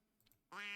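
One short duck quack sound effect bursts in abruptly after a moment of near silence, loud and nasal, cut off as it plays.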